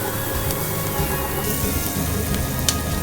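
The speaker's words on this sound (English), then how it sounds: "add in the chopped onions and saute it for 1 to 2 minutes till it turns" Chopped onions sauté in a hot pan for pineapple prawn fried rice, giving a steady, dense sizzle that runs the whole time at an even loudness with no talking.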